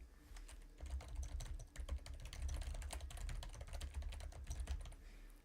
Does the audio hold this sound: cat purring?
no